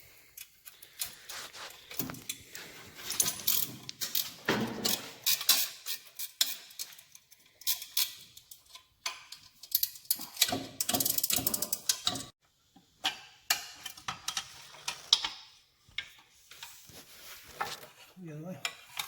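Ratchet clicking in bursts as nuts come off the front fender studs of a 1975 Norton Mk3 motorcycle, close and fairly quiet, with metallic tool clatter between the runs of clicks.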